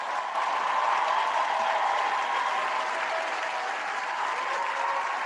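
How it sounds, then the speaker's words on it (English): A studio audience applauds a guest on a talk show, with sustained, even clapping from a crowd that holds steady throughout and stays loud and close. "Big applause for you, mate."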